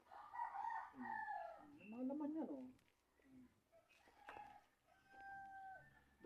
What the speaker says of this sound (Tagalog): Ay, may manok pa nakatali.